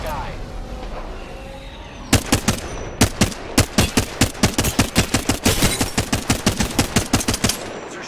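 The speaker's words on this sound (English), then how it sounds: "They're shooting at me." Video game gunfire erupts after a quieter stretch as a rapid string of loud, sharp automatic shots fired in quick bursts, dense and close, with talk mixed in.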